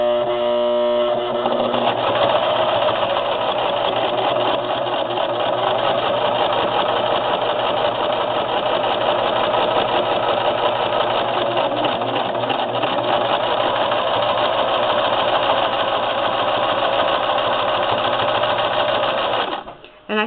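A sewing machine quilts a small patchwork placemat, its needle running in one steady, loud, continuous whir for nearly the whole stretch before stopping abruptly at the end, with no talking.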